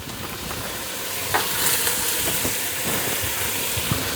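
Onions, celery and carrots sizzle in bacon grease in a skillet, a constant close frying hiss broken by a few light scrapes and clicks of stirring.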